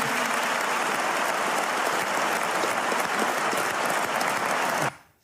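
Dense, steady applause from a large business audience at the Medef for Marine Le Pen, loud and unbroken for about five seconds before cutting off abruptly.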